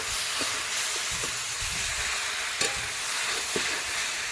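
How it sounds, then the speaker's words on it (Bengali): Cabbage frying in a pan, with a steady soft sizzle and occasional clicks from a utensil stirring and scraping, close and fairly quiet. "বাঁধাকপি ভাজা"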